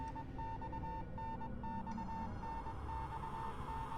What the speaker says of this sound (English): If beeping becomes gradually louder